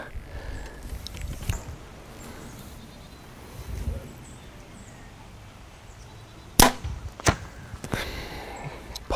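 Arrows shot from a Backyard Bows Xpedition APX bow, a few sharp close snaps and thuds spaced apart over faint outdoor background.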